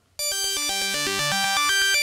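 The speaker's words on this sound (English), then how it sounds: "the piano arpeggiator pattern will replace the French Toast pattern." A KingKORG synthesizer playing its French Toast program with a piano arpeggiator pattern, a quick run of bright stepped synth notes climbing and falling in a steady rhythm, close and alone.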